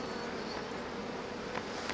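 Honey bees on the comb at an open hive make a continuous soft, even buzz, close up and fairly quiet, with no voices over it.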